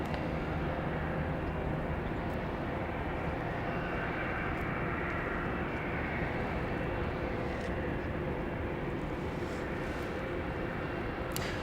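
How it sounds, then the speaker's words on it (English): A passenger jet arriving from Austin at Dallas Love Field produces a steady, broad engine roar at moderate distance, continuous and without breaks. "we have our next arrival coming in from Austin, flight 1566"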